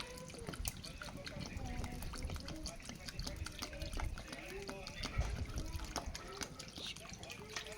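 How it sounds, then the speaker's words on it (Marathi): Water is poured for cooking mutton in the traditional tribal style, a steady trickling splash running under continuous talking. "पाणी आपल्याला पाहिजे तेवढं घेणार आहोत"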